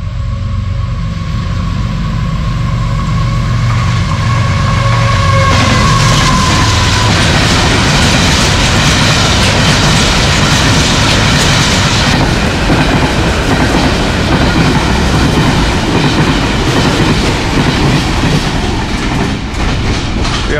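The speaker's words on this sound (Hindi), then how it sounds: "एक और फ्रेट ट्रेन आ रही है जी" A Pakistan Railways freight train rolls loudly past close by at Jhimpir, with a steady heavy rumble and wheel noise that builds after a few seconds and continues throughout, with no talking.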